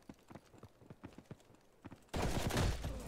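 Gunfire in the online shooter Ghost in the Shell: First Assault, a string of sharp separate shots in uneven rhythm, then a sudden loud, dense burst of firing that fills the last second.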